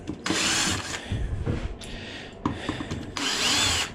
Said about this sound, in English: Since it's already on the drill, go ahead and use it.